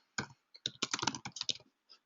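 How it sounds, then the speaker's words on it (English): Keys clatter on a computer keyboard as a search term goes into a Google search box, a short quiet burst of about a dozen quick close clicks with brief pauses and no talk. "It's a little Google search box, and I'm typing in Mount Baker"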